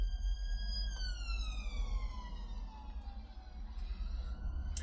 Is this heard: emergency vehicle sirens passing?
yes